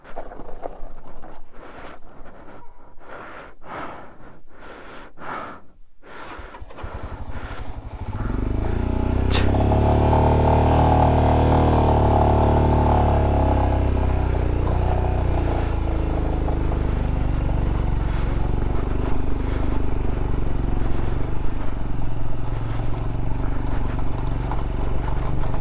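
A struggling motorcycle ridden uphill on a rough shortcut route toward Rara, its engine labouring in a loud, steady drone that swells in after a quieter start of wind and clattering and then holds constant.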